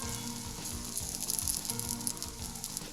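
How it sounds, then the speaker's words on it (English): Shallots sauté in a tablespoon of canola oil in a stainless steel skillet over high heat, giving a soft, steady sizzle with light crackles throughout. "Add a tablespoon of canola oil and then the shallots. Saute until soft, about 3 minutes."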